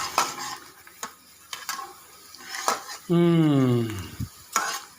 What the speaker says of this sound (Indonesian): diaduk sampai rata, sampai warnanya sedikit menguning dan mengeluarkan aroma bawang bombay